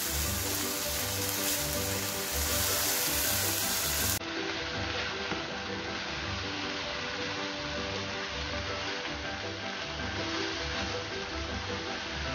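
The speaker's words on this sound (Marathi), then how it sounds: "व्यवस्थित हलवून घेऊया." Pav bhaji vegetables with half a spoon of turmeric are stirred in a pan, producing a soft, continuous sizzle with gentle rhythmic scraping, fairly quiet throughout.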